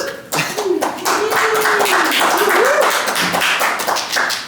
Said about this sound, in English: I got bigger applause than he did